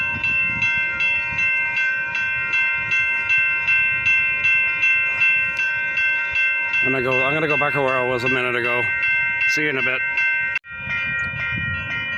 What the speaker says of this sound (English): I'm gonna have to wait till totally when that train passes completely by, clearing this train